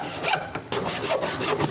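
A hand saw cuts wooden tenons in scrap wood, giving a few quick rasping strokes in an uneven rhythm with a short pause, close and fairly loud.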